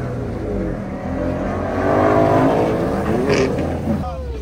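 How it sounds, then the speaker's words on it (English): A Tesla spinning at a cars and coffee meet in Morrisville, its rising whine and tire noise swelling to a peak and easing off, with people talking nearby. "They about to spin the Tesla."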